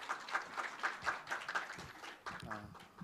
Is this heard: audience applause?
yes